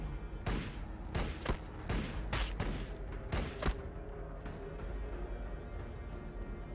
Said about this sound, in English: use just our master-crafted bolt pistol and go for some lucky shots